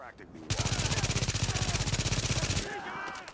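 A converted SMG9 submachine gun in The Division fires one long, very rapid automatic burst lasting about two seconds, loud and close, with a voice talking over it.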